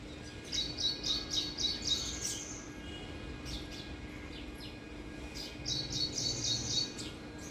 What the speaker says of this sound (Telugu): అదే పక్షి అది ఇంకా కొంచెం ఎక్కువ వాయిస్ చేస్తుంది